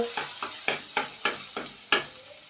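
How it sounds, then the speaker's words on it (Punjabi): Chopped ginger and garlic fry in a pan for a winter chana soup, with a steady sizzle broken by six sharp stirring scrapes at a regular rhythm, close and fairly loud, with no talking. "ਇਹ ਪਾ ਲੈਣਾ ਤੇ ਇਹਨੂੰ ਆਪਾਂ ਭੁੰਨਾਂਗੇ ਜੀ ਹਲਕਾ ਜਿਹਾ"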